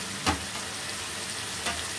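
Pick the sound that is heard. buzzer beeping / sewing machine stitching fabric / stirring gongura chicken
stirring gongura chicken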